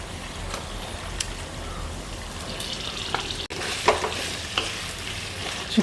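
Chicken pieces sizzle and fry in a pan with green chillies and curry leaves for a Kerala-style chicken stew, a steady crackling hiss broken by occasional stirring clanks and scrapes.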